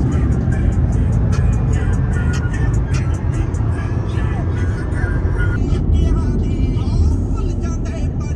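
Steady, loud road rumble from a car driving on a long trip toward Islamabad airport, with continuous engine and tire noise filling the whole stretch and no pause.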